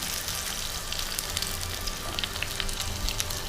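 Onions and green chillies sizzle in oil in a pan for a Sri Lankan-style chicken curry, a steady close crackling fry with small pops and no talking.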